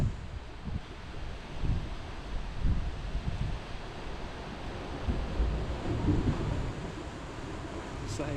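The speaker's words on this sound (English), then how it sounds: "This wind's getting out." Strong gusty wind buffets the microphone on the coast at Roundham during a fishing session, with surging low roars and waves washing in continuously, loud and close throughout.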